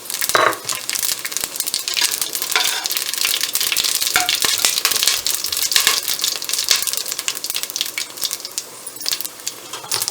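Bay leaf, cinnamon, cardamom, star anise, cloves and fennel seeds frying in hot oil in a pan for prawn biryani, with steady crackling sizzle and sharp pops and taps of spices throughout.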